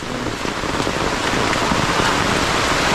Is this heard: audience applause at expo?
no